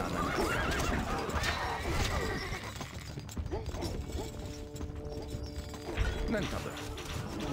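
A horse neighs and hooves clatter at a gallop in Stronghold: Crusader, with game-style music and speech over the top.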